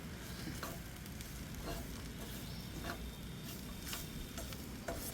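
Ivy gourd (tindora) frying in a pan with peanuts for a dry spiced fry, a steady close crackling sizzle with soft scraping stirs now and then, no voices.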